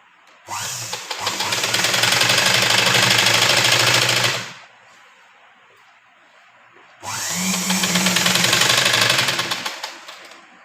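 A sewing machine stitches along the edge of a crop top or long frock dress in two loud sustained runs of steady mechanical whirring, with a short quiet pause between them.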